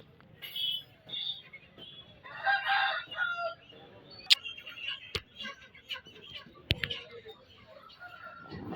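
A rooster crows and clucks among caged chickens at a poultry market, with several harmonic calls rising over a busy background and scattered sharp clicks and knocks.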